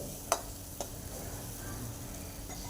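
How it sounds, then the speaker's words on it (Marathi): Homemade spice masala and red chili powder being stirred in a pan for dal, with a soft steady sizzle and a few light utensil scrapes and ticks, fairly quiet throughout. "व्यवस्थित असं याला मिक्स करून घेऊयात."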